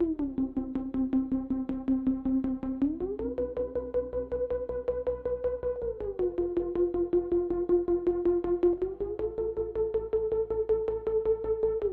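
A tremolo lead preset on the Imaginando DRC synthesizer app plays sustained notes with a fast, pulsing tremolo, stepping between a few pitches in a slow melodic line.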